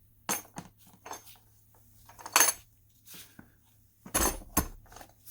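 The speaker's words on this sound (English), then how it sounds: "a beautiful plastic case with durable latches" Plastic latches on an impact wrench carrying case snap open in a few sharp, close clicks and clacks, with light handling rattles between them and no talking.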